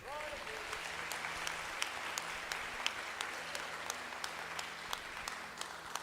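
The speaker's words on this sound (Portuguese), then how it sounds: "Pode aplaudir Jesus" A church congregation claps in a steady rhythmic beat, sharp hand claps repeating about twice per second over a sustained wash of crowd applause, with a voice audible at the start.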